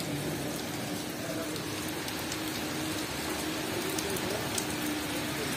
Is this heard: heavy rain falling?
yes